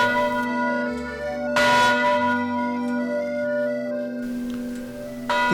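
Church bells ring in Villedieu, Normandy, a village known for bell-making, with loud, overlapping strikes whose long tones hang and blend, new strokes arriving every couple of seconds.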